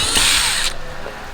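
Power drill whirring loudly as it drives screws into a BESTOP soft top setup on a 1997-2006 Jeep Wrangler TJ, one sustained close burst cutting off abruptly, then quiet.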